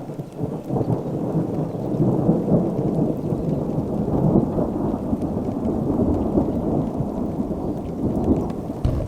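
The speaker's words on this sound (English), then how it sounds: "I think that thunder scared him." Rolling thunder during a thunderstorm on the open Alberta prairie, a continuous low rumble layered with steady rain, with no speech.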